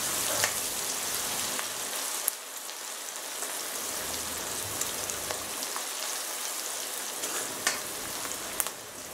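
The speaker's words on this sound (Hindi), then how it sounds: "आप इसमें और ज़्यादा ऑनियन प्याज डाल सकते हैं। ये थोड़ा सौते करके लेंगे इसको अच्छे से।" Onions sautéing in a pan for veg biryani give a steady, close sizzle and crackle that runs unbroken through the whole stretch, with no voices.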